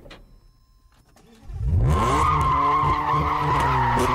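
Car in Need for Speed Most Wanted skids hard after a quiet start, then drives on with a loud, sustained engine roar and tire squeal, close and steady with no talk.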